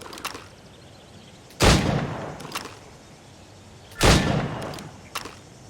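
Two loud, sharp gunshots fired at practice targets in Assassin's Creed Rogue, spaced a few seconds apart, each with a booming tail over quiet game ambience.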